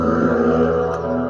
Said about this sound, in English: I live on a busy main road, as you can hear.